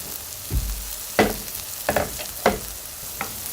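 A Korean pancake coated with sesame fries in oil in a pan, giving a steady sizzle broken by several scraping spatula strokes. It is close, with no talking.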